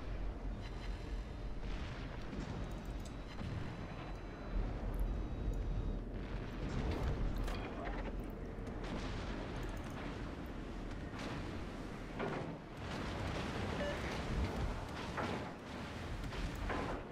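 Naval guns firing in World of Warships aboard the Giuseppe Verdi battleship, a dense roll of deep booms and blasts with secondary batteries, loud and continuous with no talking.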